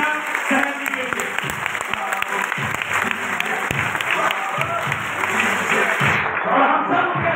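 Loud, steady applause from a crowd at a direct selling event, continuous clapping throughout with some crowd noise underneath.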